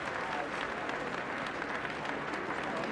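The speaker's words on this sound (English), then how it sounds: "Very warm applause for Gordon Brown as he leaves the Treasury as Chancellor of the Exchequer for the last time" Warm applause for Gordon Brown leaving the Treasury as Chancellor of the Exchequer for the last time, a steady outdoor crowd clapping that fills the whole moment at an even, moderate level.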